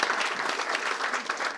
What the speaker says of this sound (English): how about a big round of applause for our financial sponsors